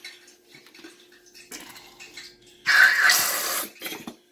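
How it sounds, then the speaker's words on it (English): Brief wet, sputtering squirt of ketchup from a squeeze bottle, loud and close, following quieter clinks and shuffling. "the ketchup loves us when it makes that sound"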